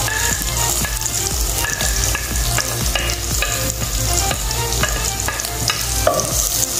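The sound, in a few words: onions being stirred and sautéed in a pan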